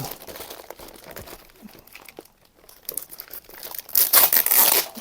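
Stuck packaging on an AliExpress parcel is peeled and crinkled during unboxing, giving close crackly rustles and tearing crinkles in irregular bursts, quiet at first and growing loud near the end, with no talk.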